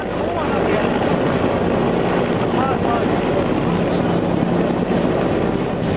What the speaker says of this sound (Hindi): भारतीय वायुसेना का हेलीकॉप्टर मछुआरों के पास पहुंचता हुआ दिखाई दिया